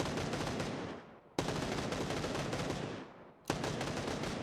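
Three long bursts of rapid automatic gunfire in PUBG on console, each sustained roughly a second and cut off by a short pause, loud and close with no talking.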